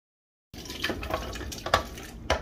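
Water is poured into a birria pot, a close, continuous splashing and gurgling with a few louder sloshes and metallic clinks, and no voices.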